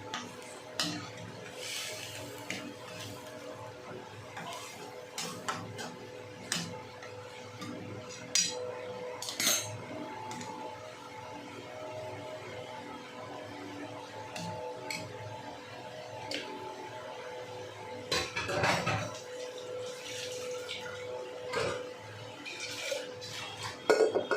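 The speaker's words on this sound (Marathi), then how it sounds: "छान असं मिक्स करून घ्यायचं." Chickpea usal being stirred in a metal pot, with repeated soft scrapes and clinks of a spoon against the pot's sides at a steady, unhurried pace, close and moderately quiet.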